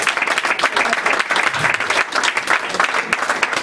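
A church congregation claps and cheers loudly in praise of Jesus, a dense, steady wash of applause with scattered shouts lasting throughout.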